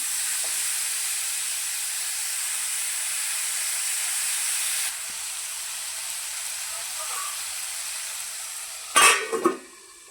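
Tomato chutney mixture roasting over a low gas flame gives off a steady, soft hiss and gentle sizzle, with a brief louder clatter of stirring near the end.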